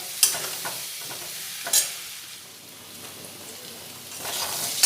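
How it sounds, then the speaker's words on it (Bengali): Potatoes fry in hot oil, a continuous sizzle with occasional stirring clatters of a utensil in the pan, close and fairly loud. "আলুগুলো লাল করে ভাজা হয়ে গেছে।"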